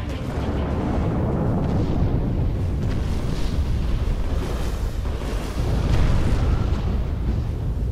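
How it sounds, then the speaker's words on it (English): A video game explosion fills the scene with a loud, sustained rumbling roar that stays dense and even for several seconds and swells slightly near the end, with no voices over it. "Ooh, nice explosion."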